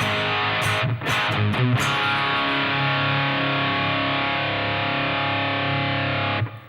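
A heavily distorted electric guitar plays a riff, a few choppy chord stabs giving way to a thick, sustained ringing chord on D that stops suddenly near the end.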